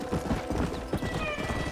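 Rhythmic clip-clop of horse hooves trotting at a steady pace in the video game Red Dead Redemption, close and clear, with a brief whinny and light background music.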